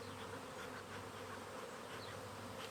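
Honeybees swarming around an agitated hive during an inspection, a dense continuous buzzing of many insects nearby, with individual bees droning past, no talk.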